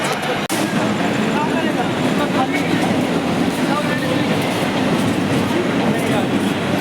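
A train rolls steadily with loud rumbling and rhythmic clickety-clack of the wagons, heard from aboard as it nears a station, with voices faintly mixed into the noise.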